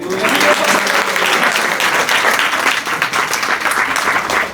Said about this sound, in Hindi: ताली बजा दो उसके लिए।